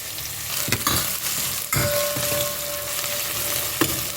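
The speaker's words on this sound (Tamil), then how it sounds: "மூணு பச்சை மிளகா கட் பண்ணி வச்சுருக்கேன் நல்லா செவந்து வரட்டும்" Three cut green chillies fry in hot oil while a Tamil radish and tongue-sole fish curry is cooked, giving a steady close sizzle with occasional louder crackles and stirring clatter, no voices.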